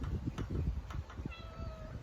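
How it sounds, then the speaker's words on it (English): Calico cat with ragdoll features meowing indoors: soft, fairly faint mews over a low rumbling background, with a drawn-out higher cry near the end. "She meows a lot."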